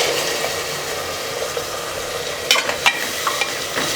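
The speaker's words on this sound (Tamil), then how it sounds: "இந்த மசாலா பேஸ்ட்லேருந்து இந்த பச்சை வாசம் போகிற அளவுக்கு நல்லா வதக்கணும்" Masala paste being sautéed with onions in a pan for tomato pulao, giving a steady close sizzle with a few louder stirring scrapes near the end; no talking.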